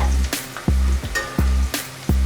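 Onions browning in a pan for a spicy goat head curry, a loud close sizzle broken by regular scraping stirs about every three-quarters of a second, with no talk.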